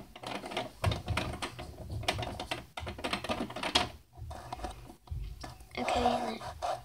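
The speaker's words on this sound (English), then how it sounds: "I can type faster than it was, I promise." Fast typing on a computer keyboard, a dense run of light plastic key clicks close by that carries through most of the stretch, with a voice speaking softly at points over the tapping.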